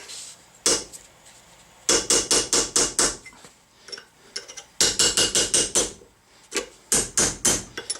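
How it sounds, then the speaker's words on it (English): A sharp chisel being hammered to remove a part on a truck, heard as loud, rapid bursts of metallic taps in quick clusters with short pauses between them, close and without talk. "Another method for taking these off is just take a sharp chisel."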